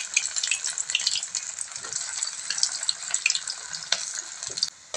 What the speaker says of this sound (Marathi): यामध्ये आपण आता बट्ट्या तळून घेणार आहोत.